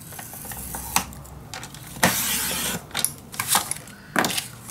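Paper being scored and then cut for an envelope mini album, with close scraping strokes and sharp crisp slicing sounds in short irregular bursts, no talking.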